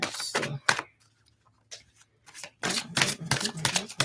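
Playing cards are riffled and shuffled close by in several quick, crisp bursts with brief pauses between them and a faint hum underneath.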